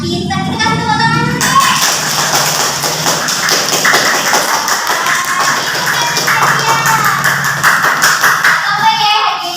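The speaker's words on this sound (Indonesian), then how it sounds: "Pintar kita kasih tepuk tangan." Children in a classroom clap together in a loud, quick, continuous patter of small hands, with young voices calling out over it near the start and end.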